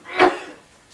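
A single sharp sneeze bursts out during a quiet spiritual talk, short and fairly close, then trails off into near silence.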